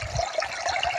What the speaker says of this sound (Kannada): ನೋಡಿ ನೀರು ಇಲ್ಲಿ ಹೋಗ್ತಾ ಇದೆ,